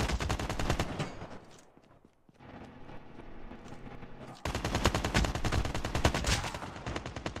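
AK rifle gunfire in the mobile shooter Call of Duty Mobile, loud rapid automatic bursts that pause for about two seconds, then resume in a dense, sustained volley.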